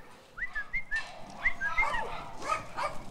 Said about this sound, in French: C'est l'heure de passer à table pour les chiens